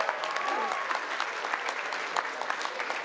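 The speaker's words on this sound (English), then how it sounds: "give them a big clap at least" A crowd at an anime festival costume contest applauds the novice category, a dense wash of clapping with a few scattered shouts and cheers rising over it.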